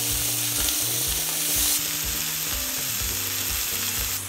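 Chicken pieces searing in a hot pan give a steady, close sizzle and crackle, loud and continuous, with no voices over it.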